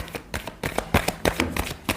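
Tarot cards being shuffled by hand, a quick run of close, crisp riffling flutters in an irregular rhythm, alone with no talk.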